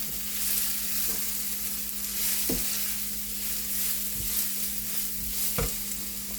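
Spiced orange peel curry being stirred in a pan, with a steady low sizzle of frying and occasional scraping knocks of the spoon against the pan.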